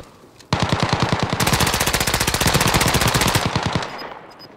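Rapid automatic gunfire in a battle royale video game rattles for about three seconds as a dense, steady, loud burst of evenly spaced shots, then tails off.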